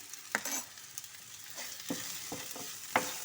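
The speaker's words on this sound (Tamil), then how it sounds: "மல்லித்தூள், கரம் மசாலா, சில்லி பவுடர் நல்லா வதக்குங்க." Ground spices, coriander powder, garam masala, chilli powder and turmeric, sautéing in a pan, with a soft steady sizzle broken by a few sharp spoon scrapes and taps as they are stirred, close by and without talk.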